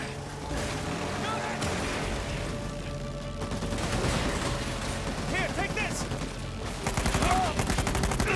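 Gunfire in the video game Uncharted crackles in bursts and volleys among mechanical clanks, fairly quiet, with voices talking over parts of it.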